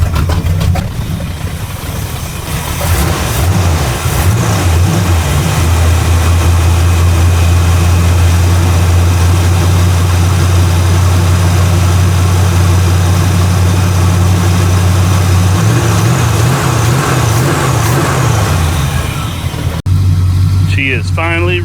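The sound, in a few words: 1986 Chevrolet C10 truck engine idling and revving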